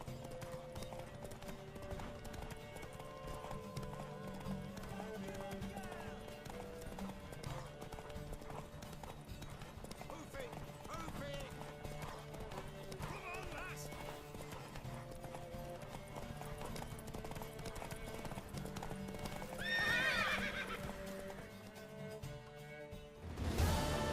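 In The Witcher 3, a horse gallops with rhythmic hoof clip-clop under a layer of game music and ambience, ending with a sharp, close whinny near the end.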